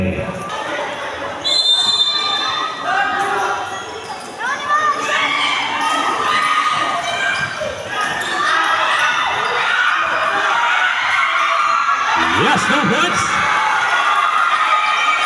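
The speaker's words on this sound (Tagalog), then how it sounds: "Ang lakas na sigawan" Loud crowd of spectators shouting and cheering at a 10-and-under youth basketball finals in a barangay court, with children's voices and ball bounces throughout, a continuous dense roar with brief talk.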